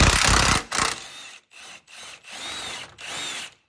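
Power tool working a subframe bolt on a Honda Civic Si FA5 turbo teardown, a loud opening burst followed by several short whirring pulses with brief pauses between them, close up and with no talk.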